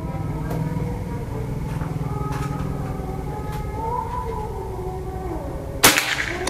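A PCP air rifle fires a single sharp, loud shot near the end, standing out alone against a steady low hum of background noise.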